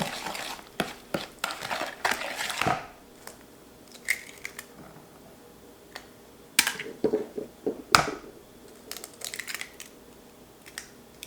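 Oil and butter being stirred in a mixing bowl, with scattered sharp clinks and scraping taps of a utensil against the bowl, some louder knocks, and quiet gaps between them.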